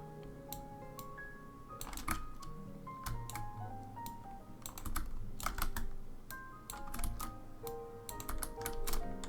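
Computer keyboard typing during a level design session: a steady, close stream of rapid key clicks in bursts, with a tonal music bed running underneath the whole time.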